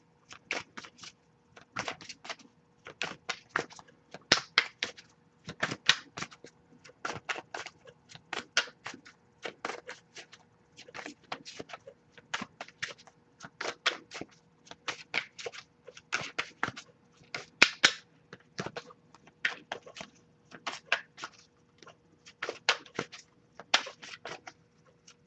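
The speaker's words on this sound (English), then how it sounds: "I'll give it a few more shuffles before we move on." Tarot cards shuffled steadily for the whole stretch, a close, crisp riffle-and-slap pattern repeating in quick bursts with brief gaps, no voices over it.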